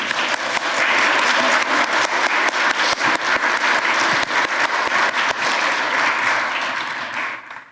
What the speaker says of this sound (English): How about a little round of applause on that one?